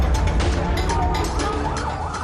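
An ambulance or police car siren wails steadily and loud over dense road and engine noise, a continuous rising and falling tone filling the short stretch without talk.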